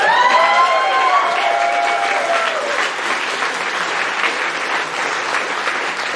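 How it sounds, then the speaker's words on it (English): Comedy club audience applauding loudly and steadily for a married couple in the crowd, dense clapping with a few cheers, close and sustained throughout. "clap it up for these people"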